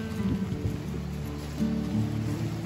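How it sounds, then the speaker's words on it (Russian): Steady rain patters continuously with a soft, even wash of noise, no voices, a low background rumble underneath, at a mountain base in Adygea. "Дождь идет."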